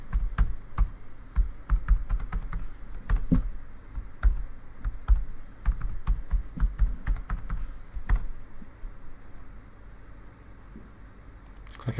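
A new password being typed on a computer keyboard: close, crisp key clicks in quick irregular bursts with short pauses, thinning out toward the end.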